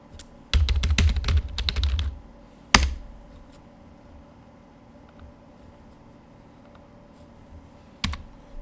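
Typing on a computer keyboard, a quick burst of clicky keystrokes lasting about a second and a half, then a single sharp thump and another lone tap later amid quiet room noise.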